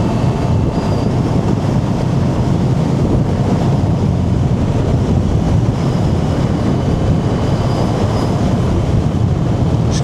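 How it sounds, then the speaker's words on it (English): Heavy wind buffeting a rider on a Moto Morini motorcycle on the move, a loud, steady rushing roar that fills the whole stretch with no speech. "That wind is cutting up out there."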